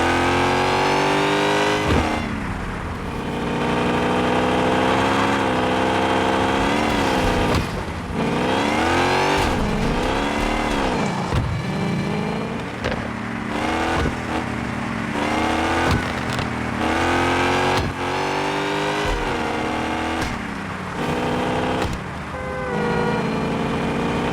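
Semi-truck fitted with a Hellcat engine in the Car Parking Multiplayer 2 video game, loud revving that climbs and drops through repeated gear changes, with sharp throttle blips and a steady roaring drone over about twenty-four seconds.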